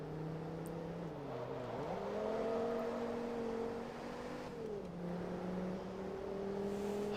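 Racing car engine in Forza Motorsport 2, a front-wheel-drive Focus, droning steadily at high revs with pitch shifts as gears change, loud and continuous with no talk.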